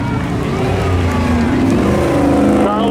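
Spectator drag race cars roar around Seekonk Speedway at a summer thrill show, a dense, continuous engine drone at close range with rising revs, under a busy track atmosphere.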